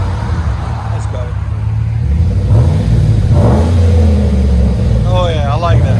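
A Chevy Suburban with a 5.3L V8 and Flowmaster Flow FX mufflers revs in a deep, steady rumble that swells over several seconds, with voices talking over the engine noise.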